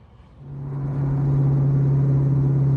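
A 1999 Kenne Bell Ford Mustang Cobra with a very loud exhaust swells from a low idle into a heavy, steady rumbling drone that holds close and strong to the end.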